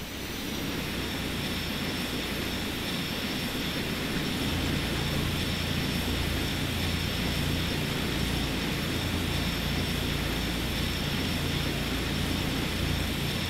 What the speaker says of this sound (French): Des avions de ligne de départ.